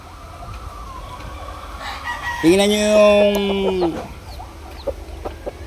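A rooster crows once, a loud, drawn-out cock-a-doodle-doo rising from background noise, while someone talks over the start of the call.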